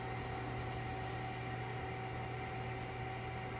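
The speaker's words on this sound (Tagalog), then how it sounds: "Kaya, pwede na natin patayin yung ating oven." An oven runs with a steady low electrical hum and faint whirring, a constant drone with no change or voices over its short length.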